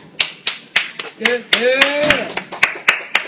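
Sharp claps land in a steady rhythm, one roughly every third of a second, while a voice talks and vocalizes over them.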